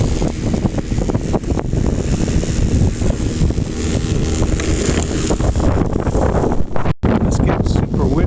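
Strong wind buffets the microphone outdoors at a gold prospecting spot, a loud, continuous roaring rumble with gusty swells and a brief dropout near the end.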